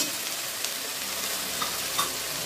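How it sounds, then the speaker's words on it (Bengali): Spice paste (masala), made without onion or garlic, sizzles and fries in a pan as it is stirred, giving a dense continuous hiss up close with faint scraping. "দেখো আমার মশলাটা কষে গেছে"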